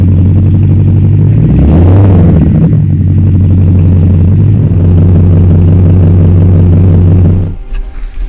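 A full carbon fiber 780 hp Chevrolet C3 Corvette restomod with four Supertrap exhaust pipes: a loud, steady, deep exhaust drone that swells with a brief rev near the start and cuts off abruptly near the end.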